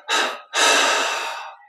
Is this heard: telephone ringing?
no